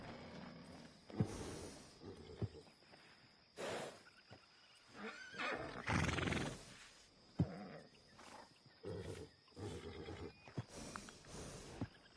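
A horse whinnies and snorts several times amid ambient outdoor noise and scattered thumps, the calls loud and close, spaced irregularly across the clip, in the video game Red Dead Redemption 2.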